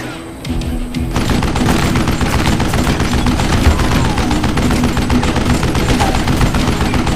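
Loud, dense gunfire in the Western shooter game Call of Juarez Gunslinger, rapid shots and booms in a steady barrage after a brief quieter start.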